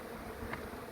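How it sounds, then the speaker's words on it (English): Honey bees buzz steadily around a beehive just moved to a new site, many of them robber bees from two neighbouring hives, forming a continuous close hum that holds level throughout. "lots of bees flying around, but predominantly robber bees from the other 2 hives"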